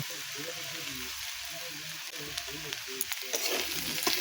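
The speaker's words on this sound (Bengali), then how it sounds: "চিংড়ি পেঁয়াজ আদা রসুন দিয়ে এগুলো ভালো করে কষিয়ে নেবো" Shrimp, onion, ginger and garlic frying in a pan before banana flower is added: a continuous close sizzle with repeated stirring scrapes and clacks of the spatula, growing busier toward the end.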